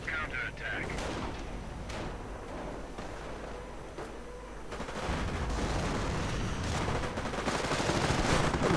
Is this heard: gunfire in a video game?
yes